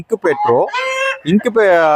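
Hens on a poultry breeding farm cluck and squawk up close in a few short bursts, one drawn-out call rising over the others, with no talking.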